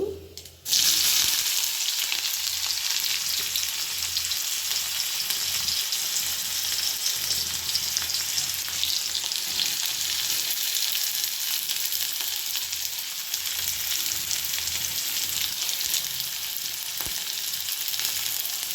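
Mustard seeds and onion hit hot oil in a village kitchen pan for a Karnataka bitter gourd palya, setting off a loud, steady sizzle that runs on with slight stirring and no talk.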